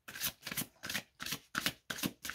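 Love angel oracle cards are shuffled close up in a quick, rhythmic run of about seven soft riffling bursts with short pauses between them, and no one talks.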